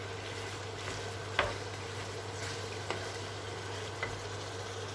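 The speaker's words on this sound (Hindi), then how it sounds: "इस पॉइंट पर यहाँ पर आप इसको अच्छे तरीके से भून लें।" Chicken karahi fries in a pan over high heat, giving a steady low sizzle with a few faint clicks of a utensil against the metal, no voices present.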